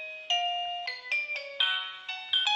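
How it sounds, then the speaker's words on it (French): An EXTEL LEVO video intercom plays its ringtone melody, a series of clean electronic chime notes stepping through a short tune, clear and moderately loud with nothing else heard. "vous permet de sélectionner en fait la mélodie de la sonnerie"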